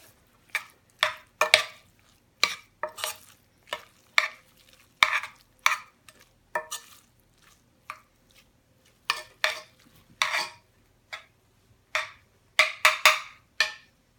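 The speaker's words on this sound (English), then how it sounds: "Then I'm going to add in the gorgonzola cheese. I'm just going to stir that up." Gorgonzola cheese is stirred into a pan in a series of close, rhythmic scraping and clinking strokes of a utensil against metal, with quiet gaps between bursts and a faint sizzle underneath.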